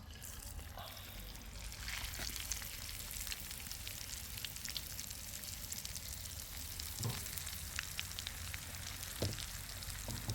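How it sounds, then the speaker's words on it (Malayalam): Fish for a Wayanad-style fry crackling in coconut oil in a clay pot over a windy outdoor wood fire, a dense continuous sizzle with occasional sharper pops, close and steady, with no one speaking. "മീനിതാ ചട്ടിയിലേക്ക് ഇടാൻ പോവാണേ"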